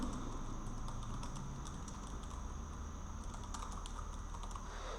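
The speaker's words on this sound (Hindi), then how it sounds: "ये देखिएगा जब मैं टाइपिंग करता हूँ" Computer keyboard keys clatter in a quick, steady rhythm during a typing speed test, close but fairly quiet, with no talking.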